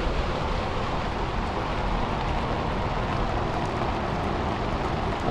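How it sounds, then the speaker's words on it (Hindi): Steady rain falling during a heavy downpour in Kanpur, a dense continuous hiss with no breaks, close and fairly loud, with no speech. "आज हो गई बारिश।"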